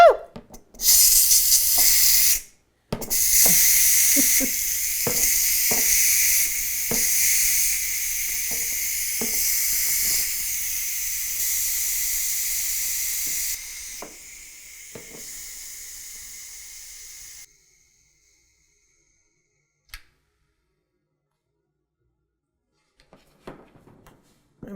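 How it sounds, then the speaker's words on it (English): A Ninja Foodi pressure cooker vents steam with a loud, sustained hiss that cuts briefly, resumes for over ten seconds among faint clicks and handling sounds, then stops, leaving near silence. "So the cycle's done, so we're gonna release the pressure."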